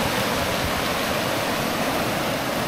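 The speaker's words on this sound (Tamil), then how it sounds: "நல்லா நிறைய தண்ணி வரும் இந்த இடத்துல." River water near a riverside campsite in Theni rushes in a dense, continuous roar, loud and close like a waterfall or fast stream, with no voices.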